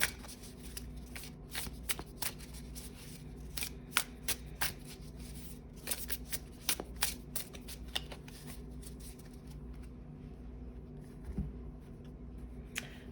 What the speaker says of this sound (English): I'm going to go ahead and shuffle the Spacious Tarot a little bit